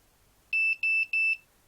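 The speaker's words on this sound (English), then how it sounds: "So that set of 3 beeps means that the gyroscope is calibrated and you're ready to fly." A quadcopter flight controller gives three short, evenly spaced high-pitched beeps in quiet surroundings, each clean and identical, signaling gyroscope calibration is complete.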